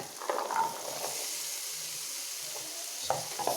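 Boiled peanuts tipped into a hot pan and stirred, giving a soft steady sizzle with scraping stirring strokes and light clatters, close up and without talk.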